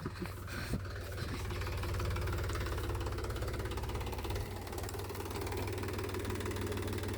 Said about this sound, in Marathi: ट्रॅक्टर घेतोय पुढं आता.